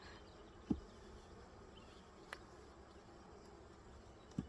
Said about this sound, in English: I'm dropping all types of bees.